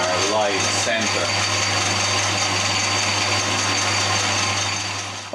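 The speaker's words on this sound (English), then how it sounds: "Let's spin up the lathe and let's get a center point hole in here for our live center." A lathe spins steady and close while a center drill bores into steel stock, a continuous loud hum with scraping cutting noise over it that eases off at the end.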